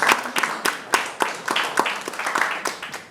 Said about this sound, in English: Okay, here's your applause.